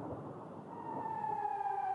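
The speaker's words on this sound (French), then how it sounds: "dès qu'ils entendent les sirènes, les passants tentent de se mettre à l'abri" A rocket warning siren in Tel Aviv wails in the distance, a faint rising and steady tone over low street noise, with no voices.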